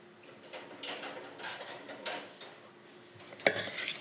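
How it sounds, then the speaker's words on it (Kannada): Salt being mixed into wild mango sasame in a bowl, with soft repeated clinks and scrapes of a utensil against the dish, fairly quiet and close, including one sharper knock near the end. "ಚೆನ್ನಾಗಿ ಮಿಕ್ಸ್ ಮಾಡಿಕೊಳ್ಬೇಕಾಯ್ತಾ"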